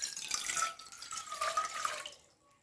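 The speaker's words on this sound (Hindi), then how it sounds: "इसके अंदर मैं 1 गिलास पानी का ऐड करती हूँ" A glass of water pours into a cooking pot in a kitchen, a short, close trickling splash for about two seconds that tapers off into quiet.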